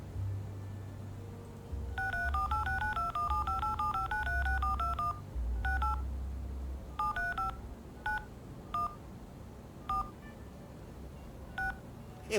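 Telephone keypad dialing in the video game Leisure Suit Larry: Wet Dreams Dry Twice: a quick run of electronic touch-tone beeps, then slower, spaced single tones, clear over a low background hum.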